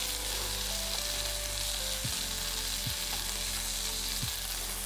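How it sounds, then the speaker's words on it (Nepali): Garlic sizzles in a hot pan, a steady, moderately loud crackling hiss over a low hum, with no speech. "गार्लिक हालिदिउँ"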